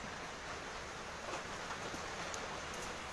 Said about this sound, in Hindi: फिलहाल ये जो मूसलाधार बारिश है